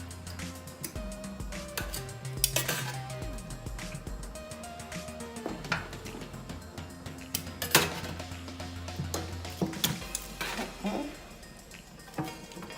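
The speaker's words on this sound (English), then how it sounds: "I'm transferring them out and put them in another pan." Roasted turkey legs are moved from one metal pan into another in a home kitchen, with scattered clinks and knocks of utensils against pans and quiet talk at points.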